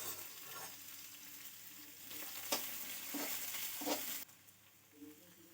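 Chopped onion sizzles steadily in a hot pan for veg Chinese noodles, a close, continuous frying hiss with a few clinks and scrapes of stirring.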